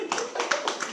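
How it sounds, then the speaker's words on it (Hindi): An audience at a Hindi-language religious sermon claps hands, a quick patter of several close, crisp claps over about a second, with a voice speaking underneath. "ताली बजाइए।"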